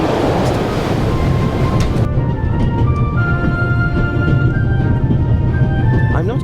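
A train ride in the video game The Raven gives a loud, continuous rumble and rattle of the carriage. It holds steady from start to finish.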